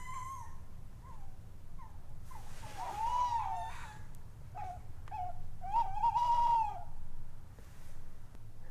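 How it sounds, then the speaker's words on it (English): Tawny owls calling around a tree at an abandoned site, with repeated short hoots and kewick-like calls at moderate distance over a steady low background hum, some calls louder and drawn out. "We are surrounded by tawny owls."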